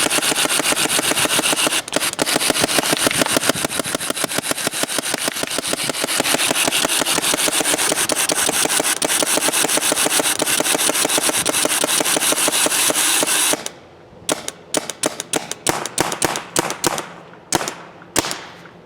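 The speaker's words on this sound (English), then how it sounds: "That first wind again is just it loading the feed neck." An M1 mechanical paintball hopper winds and feeds balls through its feed neck, producing a loud, steady, rapid ratcheting buzz that breaks into a series of short separate clicks and bursts near the end.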